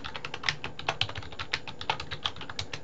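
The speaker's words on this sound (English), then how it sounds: "Type in your name again." Computer keyboard typing in quick, uneven bursts of close, crisp keystrokes, with no talking.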